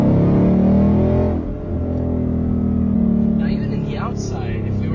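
A Ford Mustang GT S550 V8 pulls hard in second gear, its engine note building in a strong, loud, rising drone from inside the cabin, dipping briefly before climbing again.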